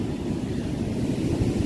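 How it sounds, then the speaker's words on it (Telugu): Sea waves roll in at a hidden village beach in West Godavari, a steady broadband wash of surf with some wind buffeting and no voices. "సముద్ర కెరటాలు చాలా అద్భుతంగా,"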